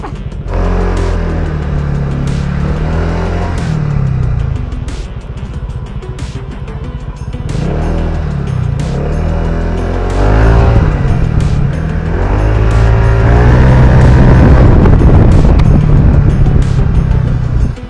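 A Honda PCX 195cc scooter revs hard while racing, its engine note rising and falling through repeated loud runs, with occasional sharp transient bursts over the continuous drone.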